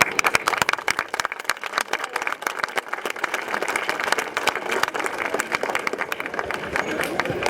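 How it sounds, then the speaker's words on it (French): A crowd applauds at the women's podium ceremony at the Risoul finish of the Haute Route des Alpes cycling event, with dense, loud, continuous clapping throughout and voices mixed in. "nous pouvons applaudir nos féminines"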